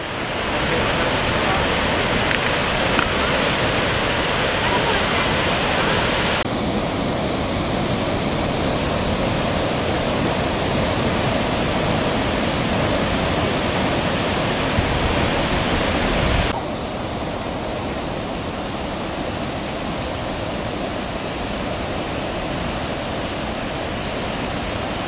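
Skógafoss waterfall on the Skóga river in southern Iceland roars as a steady, dense wash of falling water, loud and continuous throughout, dropping slightly in level partway through.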